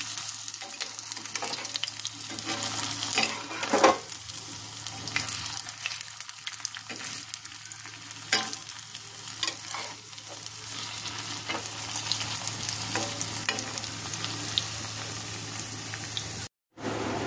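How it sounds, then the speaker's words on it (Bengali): Cabbage pakoras frying on low heat in a home kitchen, with a continuous dense crackling sizzle of oil throughout, close and even, plus scattered pops and occasional soft stirring scrapes. "কম আঁচে ভাজতে লাগবে"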